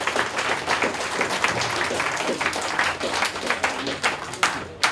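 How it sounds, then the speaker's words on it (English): Crowd applause at a fursuit dance contest at the CeSFuR 10 convention: dense, lively clapping from a large audience, loud and continuous with a few sharper claps near the end. "thank you all for your applause"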